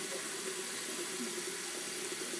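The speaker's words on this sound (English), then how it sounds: "I'm going to start running cold water over the eggs" Cold tap water runs steadily over boiled eggs in a kitchen sink, a continuous close rushing stream with no talking.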